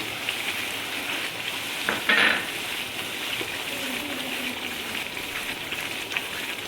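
Almonds fry in moong dal halwa over a high flame, with a steady close sizzle throughout, stirring scrapes, and a brief louder burst of crackling when the nuts go in. Nobody speaks.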